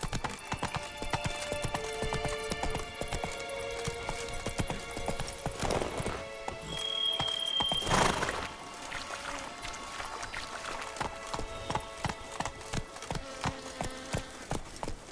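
Galloping horse hooves in The Witcher 3: Blood and Wine, a fast, steady clip-clop rhythm running throughout with a busy game soundscape, a brief whinny-like burst and a few louder swells in the middle.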